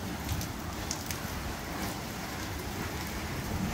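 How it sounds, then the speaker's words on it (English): Rushing water drives a large mill wheel at a converted mill in McLaren Vale, South Australia, giving a steady, dense splashing roar that holds at an even level throughout with no talk over it. "Water comes in up there and turns the big wheel."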